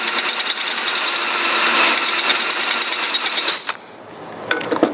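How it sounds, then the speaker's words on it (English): An F drill bit boring a hole for a 5/16 bolt during a lawn mower repair, a loud, steady grinding whine that runs for over three seconds, then stops abruptly with a brief clunk and faint follow-up noise. "the drill size for the 5/16 bolt is an F 257 thousandths."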